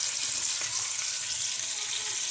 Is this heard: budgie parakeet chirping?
no